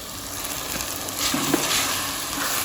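Minced meat keema sizzles in a pan on a stove, a steady close frying hiss with occasional stirring scrapes and no talking.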